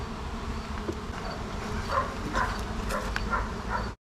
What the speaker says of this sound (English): So many bees.